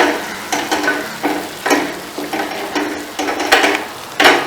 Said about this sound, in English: So now I'm going to give this a stir.